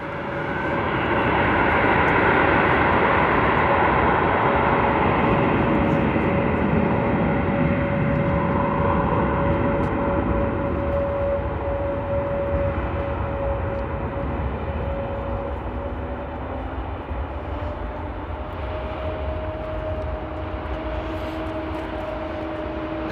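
Aircraft engines at Frankfurt Airport at night, a loud, sustained roar with a steady droning whine that slowly shifts pitch, heard from nearby without any talking.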